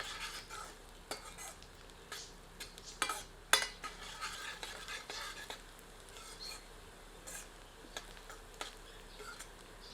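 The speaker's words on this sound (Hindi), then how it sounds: "तत्पश्चात हरी मिर्च सम्मिलित करते हैं। मिलाकर 1 मिनट भूनते हैं।" Green chilies are stirred and sautéed in a pan, with repeated sharp spoon taps and scrapes over a soft, low sizzle.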